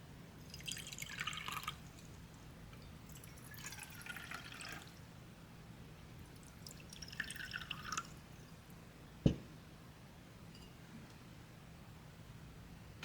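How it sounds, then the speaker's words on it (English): Water is poured into several differently shaped containers in a quiet room, three short splashing pours separated by pauses, followed by a single sharp knock. "If I pour this water into each one of these shapes"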